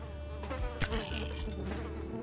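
A housefly buzzes close by in a steady, droning hum, with a brief louder tap partway through.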